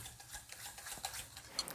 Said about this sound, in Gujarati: આ રીતે ચમચીની મદદથી તેને મિક્સ કરી દઈશું અને તેને 2 થી 3 મિનિટ માટે ફીણીશું